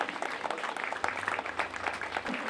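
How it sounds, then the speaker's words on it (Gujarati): Audience applauding students at a state-level children's science exhibition in Dharampur, a steady wash of many hands clapping throughout, moderately loud with faint crowd murmur beneath. "આપણે સૌ જોરદાર તાળીઓથી વધાવીએ"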